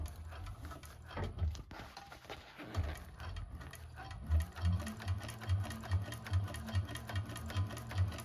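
A 1341 cylinder arm sewing machine stitching a bag gives off a close, rhythmic mechanical chatter of evenly spaced thumps that settles into a steady beat in the second half.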